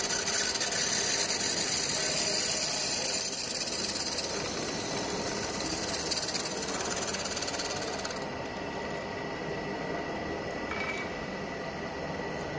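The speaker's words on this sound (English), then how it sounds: "So you can see with the help of reamer we are finishing a already drilled hole." A reamer on a drilling machine finishing an already drilled hole, giving a steady, dense mechanical whir and scraping grind that stays constant throughout and eases slightly toward the end, with no speech.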